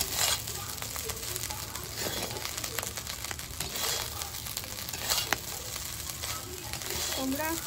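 Food frying and being stirred in a clay pot, a steady crackling sizzle with scraping and clinking of the spoon throughout, close and moderately loud.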